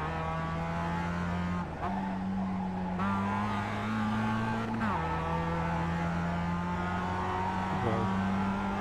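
A Global Mazda race car at Summit Point in the iRacing sim, heard onboard as its engine drones at high revs, dipping briefly on gear shifts before climbing again, steady and continuous.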